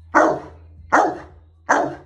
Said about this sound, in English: He can bark with the bone in his mouth.